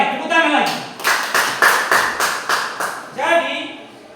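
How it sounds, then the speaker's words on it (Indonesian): Students in a classroom clap in unison, about ten sharp, evenly spaced claps in a close, loud burst, with voices speaking just before and after. "Baik, tepuk tangan lagi."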